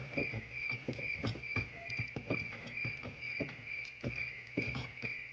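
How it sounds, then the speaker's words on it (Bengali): Crickets chirp with a steady, high, thin trill in a quiet rural night. Soft, rhythmic pattering pulses run underneath at a low, even level. "ঝিঝি পোকাদের ডাক শুনতে পেলাম বহু বছর পর।"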